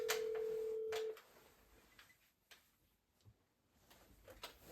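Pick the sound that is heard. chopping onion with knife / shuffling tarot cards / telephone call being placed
telephone call being placed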